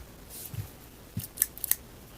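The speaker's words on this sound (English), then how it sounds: "Always good to have a small pair of scissors on you." A small pair of scissors, carried in a metal detecting backpack alongside a pocket knife, is handled with a few quick, faint metallic snips and clicks, close and quiet, with no voices.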